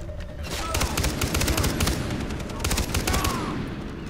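Rapid automatic gunfire from a weapon in Far Cry 3, a dense fusillade of sharp cracks in quick bursts over a rumbling game background, fairly loud and continuous.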